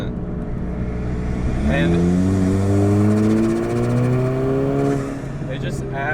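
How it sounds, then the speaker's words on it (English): Turbocharged Alfa Romeo 4C accelerating, engine note rising steadily under load with turbo spool and a brief blow-off hiss near the end, recorded close with someone briefly talking. "you can hear the turbo spooling. It sounds like it's got a blow-off valve"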